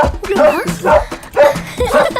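A dog barks and yips about four times in quick succession, close and fairly loud, with a whiny edge to each bark.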